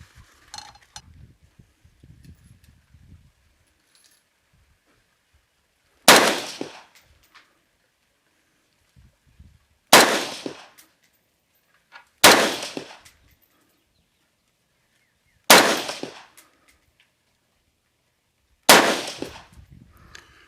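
A Uintah Precision UPR15 rifle in 224 Valkyrie fires five loud, sharp shots at a range, spaced several seconds apart, each with a short decaying tail.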